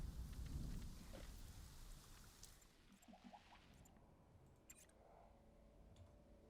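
Rain falls steadily in the video game Prehistoric Kingdom, a soft, continuous patter with a low rumble early on that fades, plus a few faint clicks and chirps in the background.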